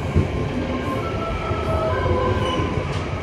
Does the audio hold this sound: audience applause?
no